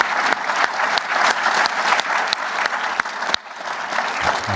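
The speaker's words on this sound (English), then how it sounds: "please, one more round of applause for our three associate administrators" An audience applauds a panel of three associate administrators, a sustained, even wash of many hands clapping at close range with a few sharper individual claps standing out.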